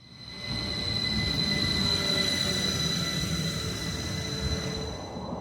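Northern passenger train running between Colne and Skipton on the Airedale Line, a steady close rolling rumble with faint wheel squeal and whine rising after a soft start and holding through the end, no talking.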